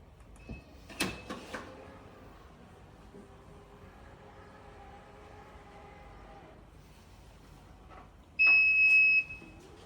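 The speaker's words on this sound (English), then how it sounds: "It will beep 5 times continuously." A quiet room with a few faint clicks, then one steady, high electronic beep from a car's power tailgate control sounds briefly near the end.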